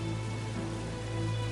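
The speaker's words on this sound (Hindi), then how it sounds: "तेज बारिश उनके चेहरे पर पड़ रही है।" Heavy rain falling as a steady, dense hiss with no breaks, loud and close, in the middle of a horror story.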